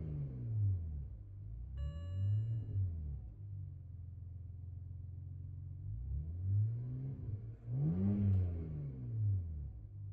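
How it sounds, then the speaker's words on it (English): A car engine with a chip tuning kit fitted is revved repeatedly from idle, with two or three rising and falling sweeps over a steady idle rumble, loud and close, with no talking. "I'm going to rev now."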